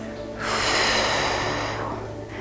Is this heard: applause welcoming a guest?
no